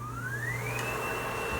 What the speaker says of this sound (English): I'll engage the vacuum.